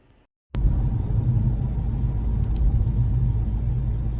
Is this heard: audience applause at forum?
no